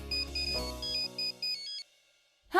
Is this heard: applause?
no